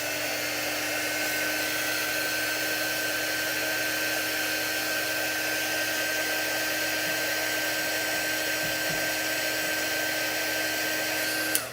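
Hair dryer blowing on a wet carved chalk piece, a steady close whine with a constant tone running without a break until it cuts off at the very end.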